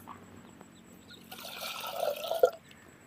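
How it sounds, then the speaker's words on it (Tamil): Water poured from a jug into a pan on the stove while making a quick lemon pickle, a soft trickle swelling into a louder splashing pour for about a second before stopping abruptly, close and alone. "தண்ணி வந்து ஒரு சொம்பு."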